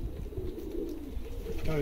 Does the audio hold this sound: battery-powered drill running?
no